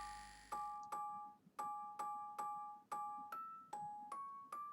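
A Jingle Bells music level in the Super Mario Maker video game plays as a run of bright, evenly spaced chime-like notes. The melody sounds slightly out of tune and is clear and alone.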